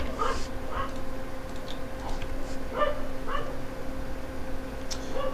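Intermittent yips, barks and whimpers from a dog in Minetest, a Minecraft-style sandbox game, rise in brief bursts over a constant low game hum.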